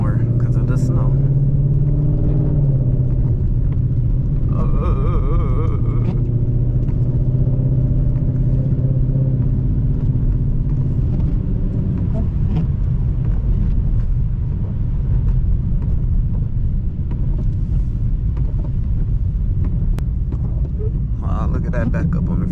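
Ford Mustang GT driving on a snowy freeway, with a steady low engine and road rumble continuing throughout under a speaking voice.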